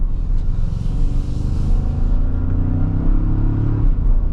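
A 2024 Toyota Tacoma TRD Off Road with a 2.4-liter turbo engine drones steadily from inside the cab while driving, a low rumble with a slight rise in pitch partway through and no talking.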